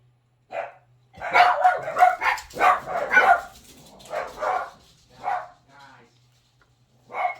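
Four small dachshunds bark in sharp, overlapping bursts nearby, a flurry of yaps followed by scattered single barks with pauses between.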